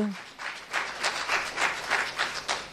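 An audience applauds at a children's reading competition final in France, a steady wash of clapping at moderate loudness that pulses and swells over nearly three seconds.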